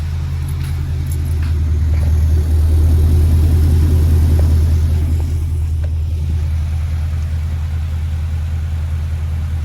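An L5P Duramax diesel pickup idles through an aftermarket 4-inch exhaust with muffler, a deep, steady rumble, loud and close, with a faint clink or two over the drone.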